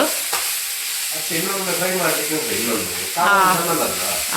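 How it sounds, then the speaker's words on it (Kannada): Onions fry and sizzle in a pan with steady hissing and occasional stirring, while a voice talks over the cooking. "ಇಲ್ಲಿ ಈರುಳ್ಳಿ ಫ್ರೈ ಮಾಡೋದು"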